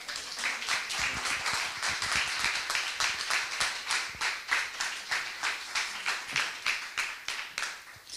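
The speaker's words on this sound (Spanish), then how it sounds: "Vamos a darle otro aplauso" Audience at a conference hall claps for a first-time speaker, many hands beating in a rhythmic, fairly even pattern that gradually thins out toward the end.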